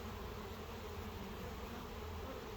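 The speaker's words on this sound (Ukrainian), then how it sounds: "О, і оса лізе туди вона." Steady, dense insect buzzing at a beehive entrance, with bees and a wasp crawling in, a continuous droning hum at even loudness without talk.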